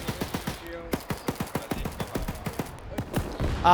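A grenadier weapon fires in a WW2 video game, producing a rapid string of sharp, closely spaced gunshots in bursts, loud and near, with a brief tonal blip partway through.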